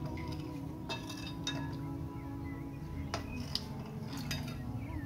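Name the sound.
mixing ingredients in a bowl with a spoon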